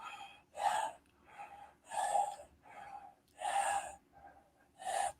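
A person imitates gasping mouth breathing during sleep with a stuffed nose: four loud, ragged inhalations in a steady rhythm, separated by softer breathy exhales, close to the mic with no other talk.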